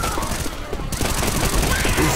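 Constant loud gunfire in the video game Left 4 Dead 2, a dense, close burst of shots that fills the whole short stretch.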